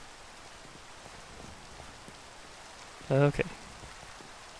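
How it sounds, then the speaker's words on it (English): Steady rain falling in Minecraft, a soft continuous hiss filling the background, with a brief spoken word cutting in near the end. "And it's raining."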